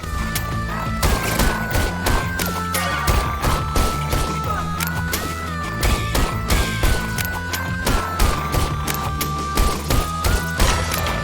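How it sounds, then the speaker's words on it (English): Repeated pistol shots from the rhythm shooter Bullets Per Minute, fired in time with driving game music, loud punchy cracks landing on quarter and eighth beats over a dense soundtrack. "Here's an example where I can shoot the pistol on the quarter or the eighth beat."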